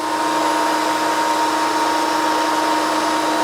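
A Makita 2012NB thicknesser planes wood, taking off about 1 mm per pass, producing a loud, steady, unbroken high whine and roar that holds level throughout with no pauses and no talking.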